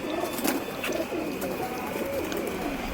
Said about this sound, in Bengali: এই দেখো লালদার ঘরের নর আড্ডা দেখো, সব পাট্টা পায়রা আছে এখানে।